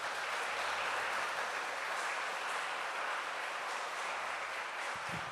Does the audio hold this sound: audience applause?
yes